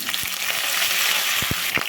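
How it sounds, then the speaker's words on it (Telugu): Cumin, crushed garlic, dried red chillies and curry leaves crackle in hot oil in a pan, a bright steady sizzle punctuated by a few sharp pops and spatters. "చూడండి, తాలింపు అయితే వేగుందండి."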